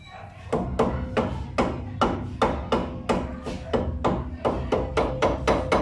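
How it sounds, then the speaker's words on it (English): A rubber mallet strikes the brake drum on a Hyundai Eon's rear axle to loosen it: about fourteen sharp, evenly spaced thuds, each with a brief metallic ring. The blows are close and loud, with no talk. "I'm using a rubber mallet to loosen up the brake drum"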